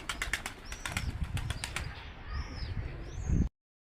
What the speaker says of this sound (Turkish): Şimdi diğer iki beyaz yavruyu kaldıracağım arkadaşlar.